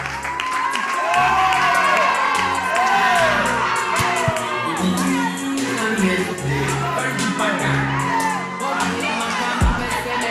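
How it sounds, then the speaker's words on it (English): A TV talent show audience erupts for a contestant, loud cheering, whoops and shouting voices over scattered clapping, the noisy excitement rising and falling for around ten seconds. "Ladies and gentlemen, a round of applause for Gypsum"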